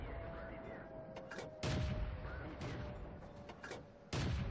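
Tank cannon shots in World of Tanks, with a Churchill tank firing on an enemy: heavy booming blasts arrive at uneven intervals, two of them especially loud and close, over a low rumbling game background.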